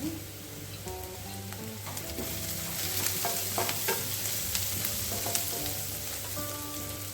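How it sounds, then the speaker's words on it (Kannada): Chopped onions fry in oil in a pan while being stirred, a continuous close sizzle broken by scraping and clinking of the spoon, heard alone with no talking. "ನಂತರ ಕೆಂಪುಗಾದವರೆಗೆ ಈರುಳ್ಳಿನ ಕಳಿಸ್ಕೊಳ್ಳೋಣ"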